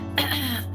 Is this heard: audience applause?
no